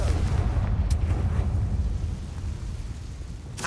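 A Confringo fire spell explodes in Hogwarts Legacy, a deep rumbling blast that swells loud and sustained across the whole moment, with a sharp crackle near the start and another burst at the end.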